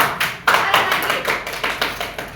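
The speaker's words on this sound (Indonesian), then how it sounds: "tepuk tangan dulu sekali lagi" A class of schoolchildren claps together in a brief, rhythmic burst, close and fairly loud, with sharp regular claps in a steady pattern.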